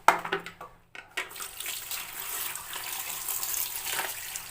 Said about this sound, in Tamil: நல்லா இந்த மாதிரி கழுவிட்டு அலசிட்டு